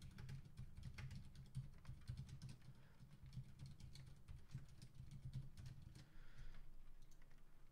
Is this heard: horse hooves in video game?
no